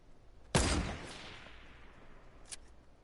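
Submachine gun fire in an online video game, one sharp burst near the start decaying into a reverberant tail, with a faint second short shot a couple of seconds later.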